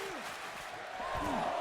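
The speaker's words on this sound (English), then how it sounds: "And listen to that crowd." Arena crowd roaring and cheering at a WWE 2K24 wrestling match, a steady loud wash of noise that swells slightly louder toward the end, with faint commentary-like voice tones underneath.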